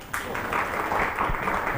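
A brief burst of audience clapping, steady and moderately loud, lasting under two seconds.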